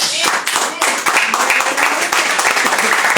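Applause from a church congregation during a sermon, a dense steady patter of many hands clapping close by for about three seconds with sharp individual claps standing out.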